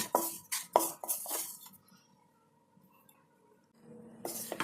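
Gram flour (besan) stirred with a spoon while roasting in a pan for khasta kachori: a burst of metallic clinks and scrapes, a quiet stretch with a faint low hum, then more close scraping at the end.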